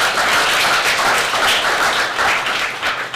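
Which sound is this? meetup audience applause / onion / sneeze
meetup audience applause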